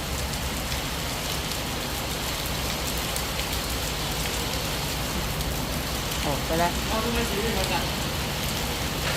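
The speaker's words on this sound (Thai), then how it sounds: "ฝนตกเราก็เลยหลบฝนก่อน" Steady rain falls heavily, a dense continuous hiss that fills the whole stretch, while a person speaks briefly under it.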